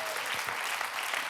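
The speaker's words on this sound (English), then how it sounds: "Bigger applause. Bigger, bravo!" A conference audience bursting into applause, a brief, full burst of many hands clapping together, loud and close, with no talking on top.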